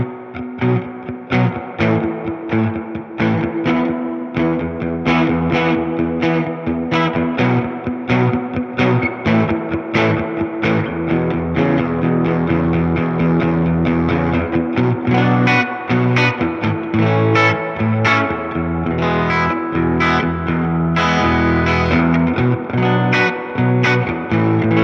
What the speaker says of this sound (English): Large hall reverb.